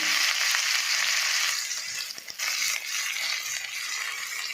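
Steady crackling sizzle of chopped onions frying in hot oil, close and continuous, with a brief dip partway through.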